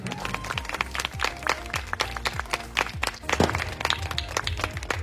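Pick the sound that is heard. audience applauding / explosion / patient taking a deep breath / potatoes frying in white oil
audience applauding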